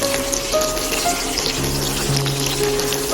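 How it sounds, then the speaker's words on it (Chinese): Sliced onions stir-fry in hot cooking oil in a wok, a loud, continuous sizzle with scraping stirs and faint clinks of the utensil, no talking. "油热之后倒入洋葱翻炒"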